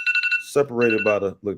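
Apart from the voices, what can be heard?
phone alarm ringing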